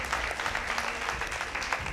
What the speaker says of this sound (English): As they get medaled up, please appreciate them with a clap.